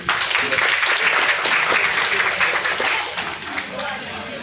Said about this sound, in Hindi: उनके लिए सबसे तालियां भी चाहूँगा आप लोगों को।